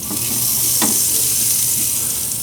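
An onion half dipped in olive oil is rubbed over hot gas grill grates, giving a steady, close sizzle with a brief, sharper scrape partway through.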